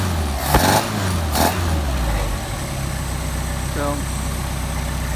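A Mercedes 190SL engine on Solex carburetors idles steadily at around 700 rpm, a low, even rumble running through the whole stretch. A couple of brief knocks come early, and one short spoken word sits over the engine.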